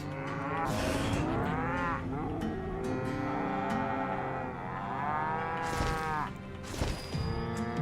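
Cattle moo loudly and repeatedly in Call of Juarez: Gunslinger, with long, overlapping, wavering lows from several animals close by.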